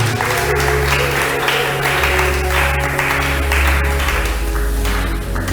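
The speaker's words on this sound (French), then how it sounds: "Acclamons pour notre Dieu" Church congregation applauding together at a Sunday worship service, a sustained dense wash of clapping at steady loudness throughout, with a low hum and faint organ-like tones underneath.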